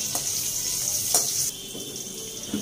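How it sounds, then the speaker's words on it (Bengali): Green bananas frying in oil in a home kitchen pan, a steady hissing sizzle running throughout with a few brief clatters and bumps, no voices. "আর এই যে এদিকে চলছে কাঁচকলা ভাজা"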